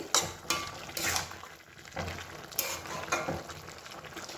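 Bottle gourd and spinach greens cook in a pan as a chorchori. Quiet, rhythmic scraping stir strokes sit over a soft, low sizzle, with no talk.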